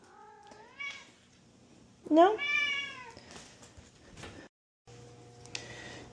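A kitten meows several times indoors during a sewing session, a few short rising-falling calls with one louder drawn-out meow near the middle, close and fairly quiet, with a brief spoken word and faint background hum.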